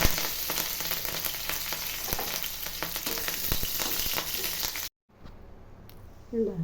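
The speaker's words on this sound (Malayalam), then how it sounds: "കടുക് കൂട്ടി, ചെറുള്ളി, ഉണക്കമുളക്, കറിവേപ്പില." A tempering of mustard seeds, shallots, dried chilli and curry leaves sizzles hard in hot oil with stirring and crackle for about five seconds, then cuts abruptly to a quiet stretch with faint rustling.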